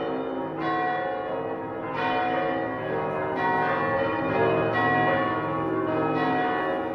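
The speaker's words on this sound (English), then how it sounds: "bells ring throughout the South." Church bells ring steadily in a continuous resonant peal, strikes recurring about every second and a half, with no voices over them.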